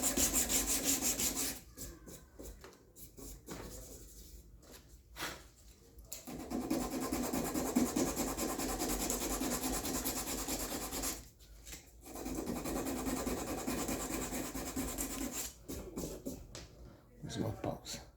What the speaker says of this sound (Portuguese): eu estou aqui na lixa 320. Meu objetivo é chegar aqui até a lixa 600 apenas.